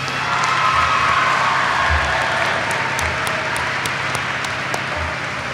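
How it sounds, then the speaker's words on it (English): Audience applause for students at a school district event, a steady wash of clapping with a few cheers and whoops, moderately loud throughout with no talk over it. "let's also give a round of applause to the students behind me"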